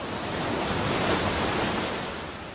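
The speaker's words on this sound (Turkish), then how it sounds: "Okyanuslar." Ocean waves make a continuous broadband wash of surf that swells and then eases, heard alone with no voices.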